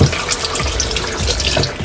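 Water runs steadily into the tub of a Mika 8kg twin tub semi-automatic washing machine, a continuous close splashing rush with no talk.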